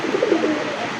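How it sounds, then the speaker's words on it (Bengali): A fancy-breed pigeon coos in a brief, low, warbling run of notes, close and moderately loud, with rain-like background hiss and a thump at the end. "কবুতরটা ডাক কীরকম"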